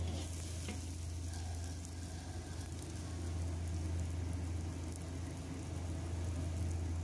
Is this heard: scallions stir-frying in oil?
yes